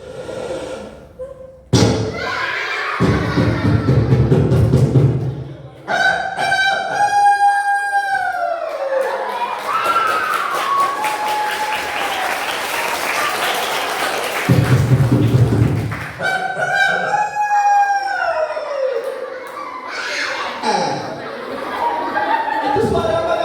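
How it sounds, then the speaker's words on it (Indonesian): A rooster crows twice, each call a drawn-out wavering cry, played indoors during a children's outing to a regional library, with thumps and voices around it. "Menjelang pagi ayamnya berkokok."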